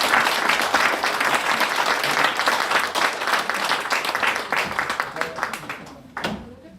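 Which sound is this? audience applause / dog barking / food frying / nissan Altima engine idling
audience applause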